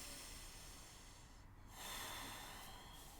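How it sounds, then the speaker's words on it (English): One deep nasal inhale during a Kundalini breathing exercise, a soft, close rushing breath swelling partway through against a steady quiet hiss, with no speech. "Last inhale here."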